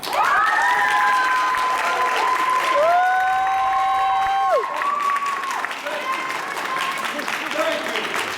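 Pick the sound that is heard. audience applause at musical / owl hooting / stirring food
audience applause at musical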